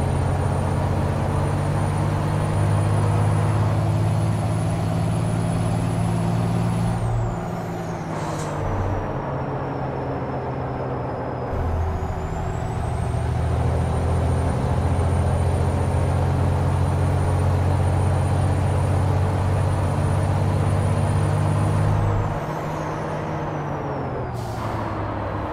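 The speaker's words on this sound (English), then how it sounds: "this is a truck I could drive all day because the sounds on it are really good" Heavy truck in Euro Truck Simulator 2 driving under load, a loud, deep engine drone with steady low harmonics that shift through gear changes, punctuated by sharp hissing air brake releases, with no voices.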